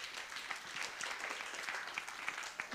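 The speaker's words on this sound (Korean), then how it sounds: "박수 한번 쳐주세요" Audience applause during a high-school Sunday church service, a steady dense patter of many hands clapping at moderate distance throughout, fairly soft and continuous with no talk over it.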